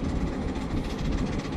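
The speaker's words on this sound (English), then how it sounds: "Wow, listen to those engines working" A pair of K4 steam locomotives pull a train under heavy effort, producing a brief, continuous loud rumble with faint regular exhaust beats, close by and without speech.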